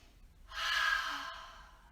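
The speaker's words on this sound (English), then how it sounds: "take your inhale and exhale like you're fogging a mirror" A single deep exhale through an open mouth, a soft breathy rush like fogging a mirror during a yoga breathing exercise, close and clear, rising quickly and fading out over about a second.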